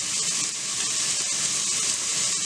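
Carrot, beans and onion sautéing in a pan, a steady bright sizzle and hiss that holds at an even close loudness throughout with no voices.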